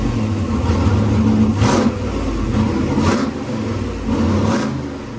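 A carbureted 5.3 LS engine revs on a dyno, a loud, steady mechanical roar that rises and falls in several swells without pause.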